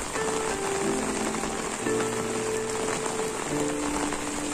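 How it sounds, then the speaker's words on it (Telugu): Heavy rain pours steadily over a flooded village, a dense, loud, continuous patter of drops on surfaces with no let-up and no voices. "ఈ వర్షం అయితే వర్షం సౌండ్ చూసారా ఎంత ఎక్కువగా వినిపిస్తుందో."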